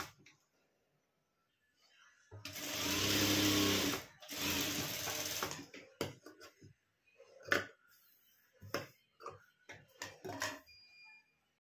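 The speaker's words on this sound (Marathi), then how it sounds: "अशी कडाला टीप मारून घ्यायची आहे" A sewing machine stitches the fabric edge of a blouse neck: one steady whirring run of about two seconds, then a string of short, stop-start bursts of stitching.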